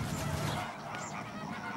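Migrating geese honk in the Doñana wetlands, a dense, continuous chorus of many calls blending into a steady noisy wash of sound, fairly loud and without pauses.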